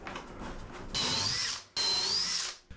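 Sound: driving galvanized screws into a wooden boat hull

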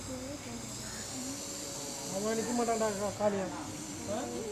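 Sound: snake hissing

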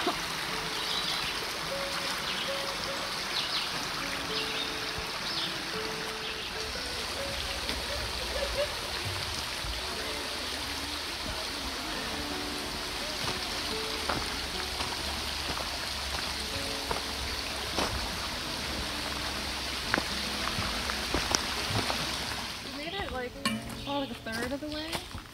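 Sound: flowing stream water

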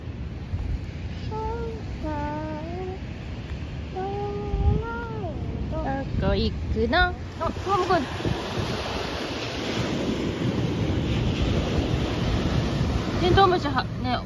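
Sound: ocean waves at the seashore

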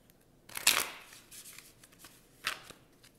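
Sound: shuffling tarot cards

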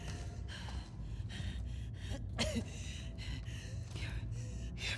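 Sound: labored breathing in The Last of Us Part 2 video game

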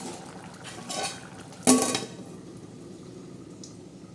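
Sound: lid placed on a cooking pot

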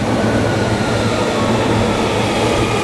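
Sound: train arriving at Katsura station, Hankyu Kyoto line

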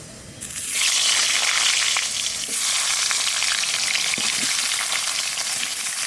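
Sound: potatoes frying in oil

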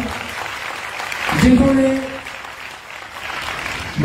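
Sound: audience applause

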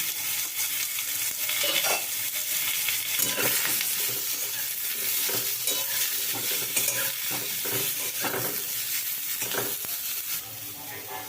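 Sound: raw mango pieces frying and stirred in spiced oil

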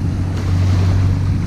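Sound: military boat passing on waterway, wake waves

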